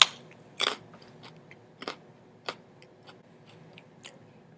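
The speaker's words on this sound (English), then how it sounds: "excuse me crunching on my carrot" A carrot is crunched with a sharp, loud first bite, followed by softer, irregular chewing crunches spaced out over a few seconds, close to the microphone, with no talking.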